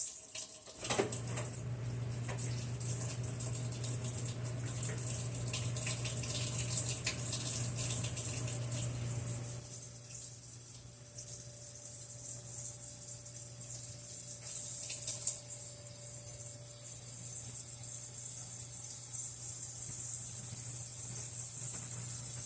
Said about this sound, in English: I just got to take that to the sink and wash my hands